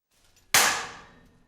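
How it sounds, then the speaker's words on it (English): Two clay model cars collide head-on in a single sharp, loud crack and clang at high speed, followed by a brief decaying rattle before everything falls quiet; no talking. "Two cars smashing into each other at speed 1x."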